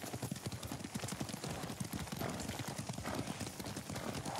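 Horse hooves clip-clop in a quick, steady rhythm while riding in the video game Ghost of Tsushima, close and continuous, with faint game ambience beneath the hoofbeats.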